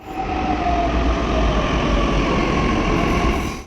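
A metro train rumbles loudly and continuously with a low, heavy drone and a faint high whine on top, steady throughout.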